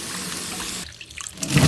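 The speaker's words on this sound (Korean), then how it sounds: "이렇게 씻어갖고 물기를 쭉 빼주세요." Young radish (yeolmu) greens are washed in a kitchen: steady rushing water gives way to brief, close splashing and sloshing as the greens are swished.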